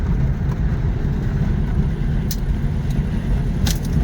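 An aircooled VW car drives along on a test drive, a steady, fairly loud road and engine rumble with a few faint rattles and clicks over it.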